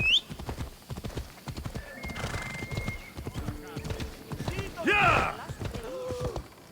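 A horse in Assassin's Creed Odyssey gallops off-road with rapid clip-clop hooves, neighs and whinnies partway through, while a player talks over the game sounds.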